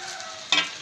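Tomatoes dropped into a hot pan for Odia sabji chadchadi set off a sudden louder burst of sizzling midway, rising over the steady frying hiss that runs throughout, with no one talking.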